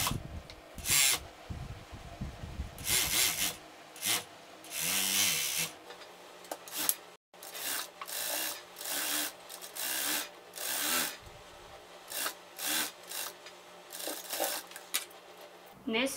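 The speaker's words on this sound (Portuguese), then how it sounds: "vou lá pra máquina overlock, vou passar uma costura aqui pra fechar essa lateral de fora a fora" An overlock sewing machine stitches the side seam of a garment, running in repeated short bursts of whirring stitching with brief pauses between them, close and fairly loud, with someone speaking at the start.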